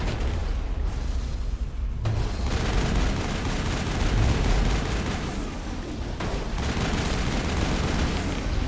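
Gunfire in the Mass Effect video game, a dense continuous wash of shooting and impacts with sharp cracks scattered throughout, loud and sustained with no clear pauses.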